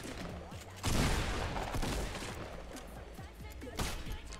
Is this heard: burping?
no